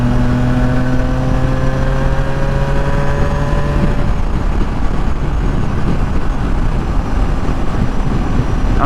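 Triumph Tiger 660 Sport motorcycle on the move, a loud steady engine drone under heavy wind rush, with the pitch rising and then dropping midway as if shifting gear, no talking.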